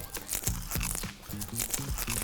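Crisp, salted Korean seaweed snack (gim) crunched close up in a quick series of sharp, crackly bites and crinkles with no talking.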